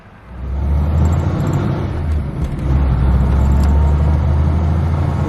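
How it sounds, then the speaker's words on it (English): A car driving up a residential street in Monrovia, its engine and road rumble loud and close throughout, swelling slightly as it accelerates, with no one talking. "We're driving up Mayflower right now, heading towards Hillcrest."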